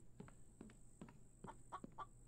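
A chicken in the video game Infected clucks in a steady series of short, evenly spaced clucks at moderate loudness. The clucks play alone with no talking.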